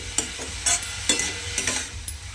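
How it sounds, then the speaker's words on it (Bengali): Radish pieces stirred in hot oil: a steady light sizzle broken by several scraping, clattering stirs at an irregular pace, close and moderately loud, with no voices. "মূলোটা তেলের মধ্যে দিয়ে এইভাবে একটু নেড়ে রান্না করে নিয়েছি"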